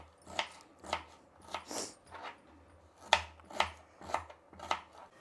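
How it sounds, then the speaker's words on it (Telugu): Knife chopping red onions on a board, a steady run of sharp, crisp cuts about one every half second, close and moderately loud with no talking. "మన ఎర్రగడ్డలు కట్ చేసేసినాము"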